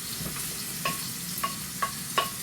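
A block of Japanese sticky rice goes into a pan and is stirred, giving a soft sizzle broken by several sharp scraping clicks spread through the clip.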